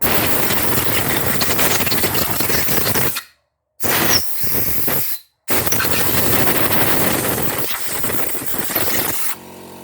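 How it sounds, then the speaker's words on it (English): A workshop air compressor runs loud and close while compressed air blasts clean a motorcycle gearbox part during a rebuild. The roar is broken twice by sudden silent gaps. "I want to blow this one out first, so oh no, the compressor will kick in"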